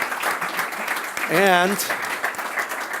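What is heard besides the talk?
audience applause for speaker Sunil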